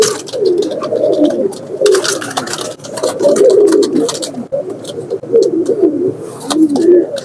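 Original Saharanpuri pigeons coo in repeated low, throaty phrases, close and steady, with soft rustling and clicks between the calls.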